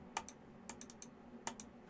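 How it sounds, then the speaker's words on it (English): Quiet keystrokes tap on a computer keyboard in a small indoor space, a few irregular clicks and short clusters spaced out over a couple of seconds, with no talking. "heading over to your browser and typing in"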